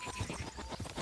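Horse hooves galloping in the medieval video game Kingdom Come Deliverance 2, a quick rhythmic clip-clop of several beats, moderately quiet, no talking.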